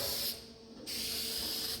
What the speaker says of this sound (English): So I just keep spraying it in there